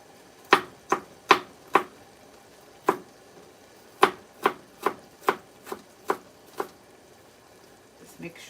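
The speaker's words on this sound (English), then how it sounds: "Just make sure my onions are all chopped up nicely." A knife chopping onions on a board for samosa filling, a dozen crisp, close, evenly paced cuts with brief pauses, faint kitchen background behind them.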